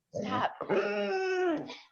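Household dogs give a short, close yelping and whining vocal burst lasting under two seconds, with no other sound around it.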